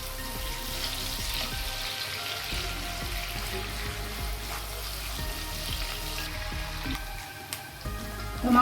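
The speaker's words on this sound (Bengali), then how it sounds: "এখন দিয়ে দিব কেটে রাখা মুরগির মাংস এবং পেঁয়াজের সাথে খুব ভালোভাবে মুরগির মাংসগুলোকে ভেজে নেব" Chicken pieces fry with onions in a pan and give off a continuous loud sizzle with bubbling crackle. There are occasional stirring scrapes, and no one speaks.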